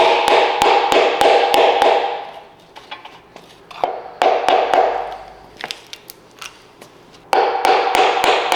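Sharp metallic taps on a part being fitted during a Datsun 520 engine rebuild, a fast run of close, loud strikes, then a quieter pause with scattered knocks, then another burst of rapid tapping.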